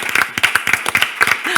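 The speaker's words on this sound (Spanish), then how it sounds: "Fuerte el aplauso para ellos, por favor." Audience at a comedy show clapping, a short burst of scattered, fairly close individual claps in irregular rhythm rather than a dense ovation.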